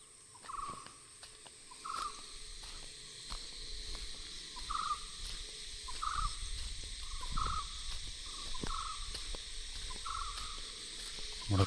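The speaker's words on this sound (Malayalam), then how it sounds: "ഇതാ ചീവീടുകൾ കരയുന്ന. ഓരോ മരത്തിൻ്റെ മേലും ആ പ്രാണി ഉണ്ടാവും, ഇങ്ങനെ ശബ്ദമുണ്ടാവും." Cicadas drone in the Nelliampathy forest, a thin, steady high buzz with short calls repeating every second or so. The sound is faint and distant, with no speech.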